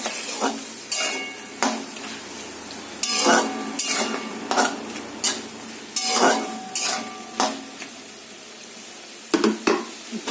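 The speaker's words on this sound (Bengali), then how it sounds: "এটা এখন ভালো করে কষাবো।" Pointed gourd and prawns stir-fried in a pan, with repeated scraping and clinking of a spatula against metal in irregular strokes over a soft, steady sizzle, heard up close with no talking.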